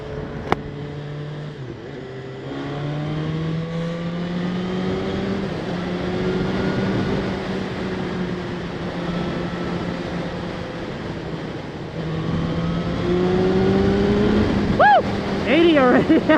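A 2016 BMW S1000R motorcycle engine accelerates through the gears, its tone climbing in long rising sweeps with shifts between, while wind roars around it and a rider talks over it.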